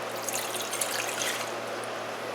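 A cup of water poured for pickling brine, a steady, soft trickling splash that runs continuously without pause, close and fairly quiet.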